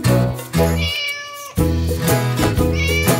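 Sung cat meows within a children's song about a cat, mouse, spider, fly and frog, the voice imitating a cat's meow in repeated tuned phrases over a loud, steady backing of music.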